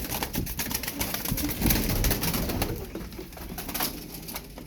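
Pigeons coo in soft, throaty bursts close by, with a few repeated calls and some light rustling in the background.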